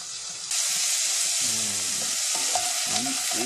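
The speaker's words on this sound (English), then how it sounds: "Meat is cooking." Meat frying in a hot pan, a loud steady sizzle that jumps up suddenly and then holds, with faint clinks of stirring underneath.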